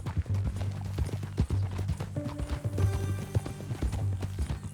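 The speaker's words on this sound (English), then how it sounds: "That new horse?" Horse hooves clip-clop steadily in Red Dead Redemption 2, a repeated rhythmic hoofbeat over a low game music bed, with no talking.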